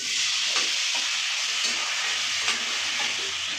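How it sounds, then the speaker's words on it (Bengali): Cold water poured into a very hot wok holding bottle gourd greens sets off a loud, steady sizzling hiss that runs throughout, close by, with a few faint clicks on top. "তবে আমি ঠান্ডা জলটাই দিচ্ছি, কারণ কড়াই ভালো গরম হয়ে গেছে"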